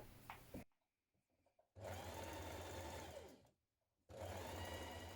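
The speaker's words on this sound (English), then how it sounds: "you're going to pivot and stitch across the top." A sewing machine stitches across the top of a cardigan, running in two steady, loud mechanical bursts with a quiet pause between, and a short stretch of running motor at the start.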